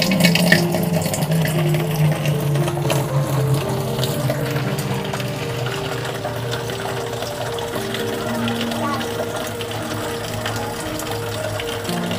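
A water ATM RO machine dispenses water into a large bottle, giving a steady, loud gushing and pumping rush that runs the whole time without a break.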